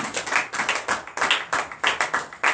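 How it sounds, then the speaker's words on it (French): A congregation at a morning prayer meeting claps in acclamation, sharp rhythmic hand claps in a steady repeating beat, close and loud with no talk over them. "Donnez l'acclamation à Jésus"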